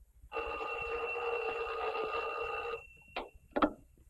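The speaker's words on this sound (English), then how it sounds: "Answer the phone." An old landline telephone bell rings in a long continuous burst of about two and a half seconds, clear and fairly loud, followed by two short clicks or knocks as the receiver is handled.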